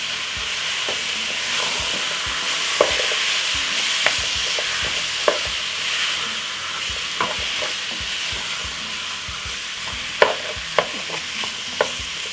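Tender beef sizzles and fries in a pot for Jamaican curry beef, a steady hiss with scattered pops and stirring clatters, close and continuous with no talking.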